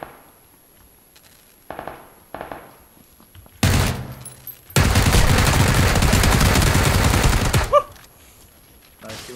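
Gunfire in PlayerUnknown's Battlegrounds: a few scattered shots, then a loud sustained burst of rapid fire lasting several seconds, followed by a final crack.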